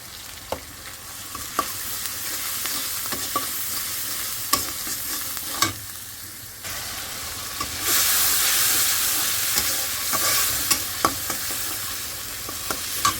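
Ginger-garlic paste and turmeric are sautéed in a pan, giving a loud continuous sizzle and hiss that swells louder partway through, with occasional spoon scrapes and clicks, close up, and no talking.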